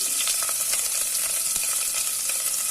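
Spices and chilli sizzle steadily in a hot pan for chicken biryani, a dense continuous hiss with faint stirring scrapes, close and fairly loud, no voices.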